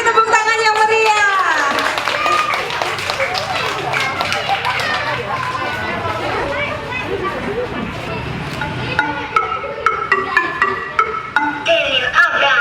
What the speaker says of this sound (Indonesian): Kelompok bermain atau playgroup dan TKA, beri tepuk tangan yang meriah.